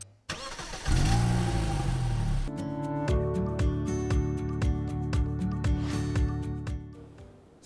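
A car engine in an automotive engine maintenance class starts with a loud surge and revs, then settles into a rhythmic mechanical idle with regular ticking pulses before cutting off.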